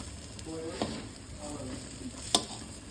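Eggplant slices frying and burning in oil in a pan at home give a fairly quiet, continuous sizzle, with a couple of sharp utensil clicks and scrapes from stirring.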